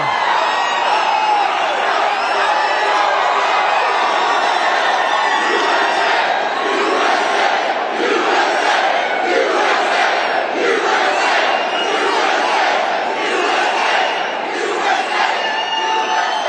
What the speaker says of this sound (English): This is a very nice crowd.